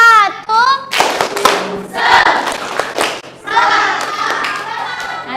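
A classroom of children performing a rhythmic spirit clap chant, with group clapping bursts in rhythmic patterns interleaved with chanted and sung voices, loud and close, the children's voices carrying over the hands.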